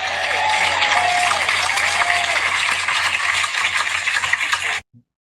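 A podcast studio audience claps for arriving guests, giving a dense burst of applause that holds steady for several seconds and then cuts off abruptly.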